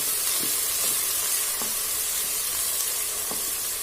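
Ginger-garlic paste fries in a covered pan with a steady, close sizzling hiss and a few soft clicks from the cookware, with no voices.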